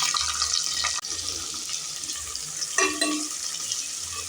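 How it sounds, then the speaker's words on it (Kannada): Cumin seeds spluttering in hot ghee for a chana pulao, a dense close crackle and sizzle running steadily throughout, with a brief louder burst near the end. "ಜೀರಿಗೆ ಎಲ್ಲ ಚಟಪಟ ಅಂತ ಇದೆ"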